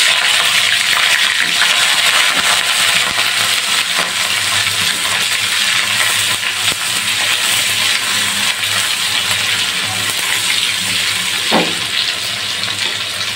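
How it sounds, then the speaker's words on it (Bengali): Singur fish frying in hot soybean oil in a wok: a loud, dense, steady hiss and crackle of oil that fills the whole stretch, close up, with no talking. "পরিমাণ মতো সাদা তেল মানে সয়াবিন তেল এইবার সিঙ্গুর মাছ দিয়ে দিতে আসি"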